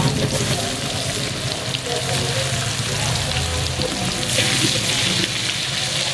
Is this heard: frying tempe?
yes